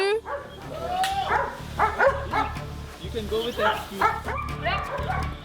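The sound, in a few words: dog barking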